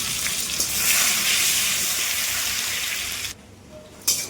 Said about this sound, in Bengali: যে তেলে আমি সয়াবিনটাকে ফ্রাই করেছিলাম সেই তেলে ফোড়নটা দিয়ে দেবো